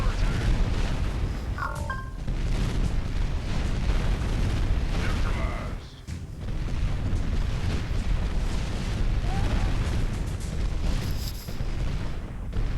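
Explosions from destroying an enemy base in the strategy game Art of War 3 roll on as a dense, loud wall of booms, bursts and artillery-like blasts, with a brief dip midway.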